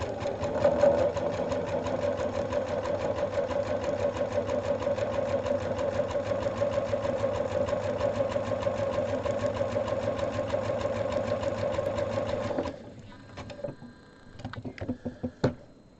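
Sewing machine stitching a quilt on a wider stitch setting, a steady fast mechanical whir and rapid needle patter running continuously for about twelve seconds, then stopping, followed by a few scattered clicks and handling knocks.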